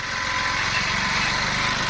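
An old Japanese Mitsubishi three-cylinder 15 hp tractor engine runs steadily close by, a loud, even mechanical drone with constant rattling throb and no break.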